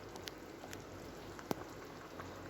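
Pot of food boiling on a home stove, a faint steady bubbling and fizz with scattered small pops and one sharper tick, quiet and without speech.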